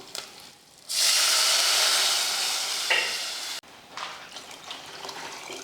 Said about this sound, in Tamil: எண்ணெய் காஞ்சதுமே கொஞ்சம் கடுகுளுந்து சேர்த்து கூடவே கருவேப்பிலையும் ரெண்டு வரமிளகாயும் சேர்த்துடலாம் பெருங்காயத்தூள் கொஞ்சம் சேர்த்துட்டு இப்போ ரசத்தை அப்படியே சேர்த்துருவோம்